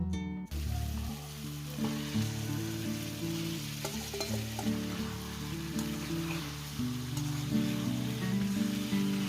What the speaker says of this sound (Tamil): இது லைட்டாக ஆயில் மிக்ஸ் பண்ணி வச்சுட்டு சிக்கன் ஆட் பண்ணுறேன்